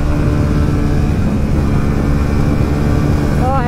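A KTM Duke 390 motorcycle on a highway drag race, its exhaust giving a steady loud droning roar throughout, with a brief rising rev at the end.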